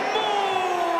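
A loud, steady roar of an arena crowd cheering in the WWE 2K24 wrestling video game during a superstar's entrance, continuous and broad, with no talking.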